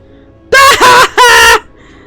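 Ash chickens in World of Warcraft cluck twice: two loud, close, squawking bursts, the first one broken in the middle, with near silence around them.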